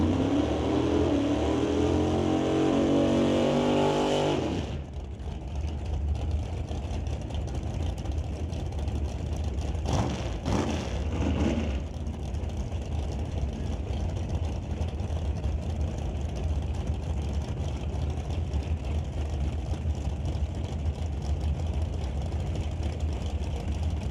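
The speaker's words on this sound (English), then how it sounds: "running an undercover dragster with 565 cubic inches of big block Chevy motor" An undercover dragster with a 565 cubic inch big block Chevy engine at an NHRA drag strip, a loud roaring run that cuts off sharply after about five seconds, leaving a steady distant engine drone with a brief burst midway.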